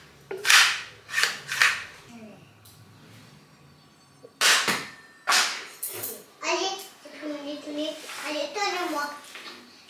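A toy pistol from an Action discount store fires in sharp, loud snapping cracks, several shots spaced apart, while a child and an adult talk in between.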